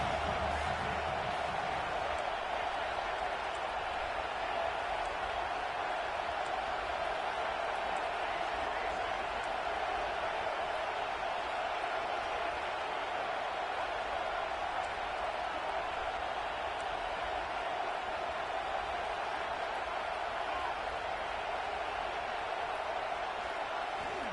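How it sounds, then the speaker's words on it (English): A home stadium crowd in a football video game roars steadily and loudly throughout, a continuous wash of cheering with commentary talk running over it. "And how nice is it to have the home crowd going absolutely bananas?"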